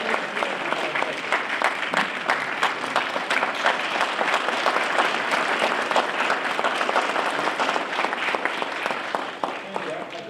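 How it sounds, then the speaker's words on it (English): Sustained applause fills a room at an elected officials' luncheon as attendees stand and clap steadily for about ten seconds, a continuous dense patter with some indistinct voices underneath. "Let's stand and give him a round of applause."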